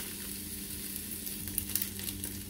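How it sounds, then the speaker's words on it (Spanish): Onion and green chile fry in a pan with a steady bright hiss and crackle, close and continuous, with a few light pops and stirring scrapes near the end and no talking. "voy a esperar un ratito a que se citrone la cebolla y el chile verde"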